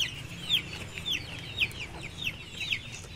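Free-range village chickens kept on limited land clucking repeatedly, several short bright calls in an irregular rhythm over a low background murmur, moderately close and fairly faint.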